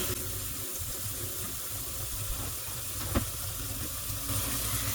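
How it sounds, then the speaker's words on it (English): Tap water runs into a sink in a steady, close, continuous stream, with no voices over it. "I simply put some water in the sink."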